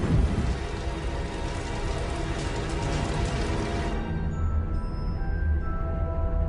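Steady, dense rain pours across the whole stretch, a loud broadband hiss of drops on a surface that thins slightly toward the end, used to stand in for methane rain on Saturn's moon Titan; no voices.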